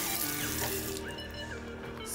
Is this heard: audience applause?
no